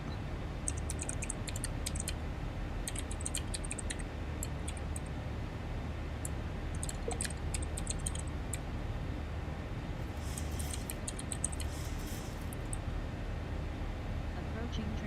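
Keyboard typing during a flight-simulator session of a Zibo Mod Boeing 737 flight from London Stansted to Dublin, with scattered light key clicks in short bursts over a steady low cockpit engine hum.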